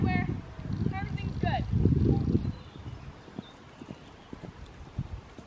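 Horse hooves clip-clop in an irregular walking rhythm during a ride on a farm, loud at first under close talking, then continuing alone as sharper, sparser steps on the ground.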